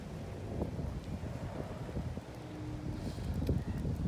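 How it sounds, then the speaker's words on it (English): Wind gusts buffet the microphone outdoors beside Lake Morton in Lakeland, Florida, a rough, uneven low rumble with brief scattered thumps, rising and falling over a few seconds without speech. "It's a bit windy out here."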